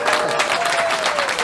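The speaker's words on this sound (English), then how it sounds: "How about a round of applause?" A live comedy-club audience applauds a comedian, with steady, loud clapping filling the room and a voice faintly under it.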